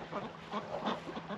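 Farm ducks quack in a busy, overlapping flock, with a steady run of close, moderately loud calls and no pauses between them.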